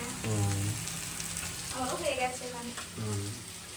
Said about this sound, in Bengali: এদিকে তো পেঁয়াজ কলি ভাজা চলছে